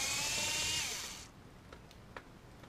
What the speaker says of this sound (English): Take your drill or your screwdriver,